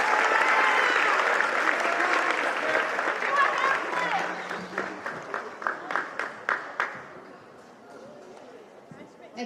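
An eighth-grade awards assembly audience applauds mathematicians, a dense crowd clapping that thins into scattered individual claps and fades, with some voices mixed in.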